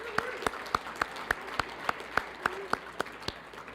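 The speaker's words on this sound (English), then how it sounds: "So a round of applause for Chili's." Slow, evenly spaced claps from a small group at a Special Olympics New Mexico law enforcement torch run event, about a dozen distinct, moderately loud beats in steady rhythm.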